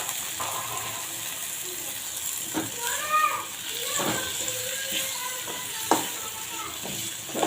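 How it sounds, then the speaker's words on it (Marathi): Tomatoes with coriander powder, salt and spices sauté in a pan, a steady sizzle under repeated scraping and knocking strokes of a stirring spoon. "टमाटर आणि सर्व मसाले आपल्याला छान परतून घ्यायचे आहे"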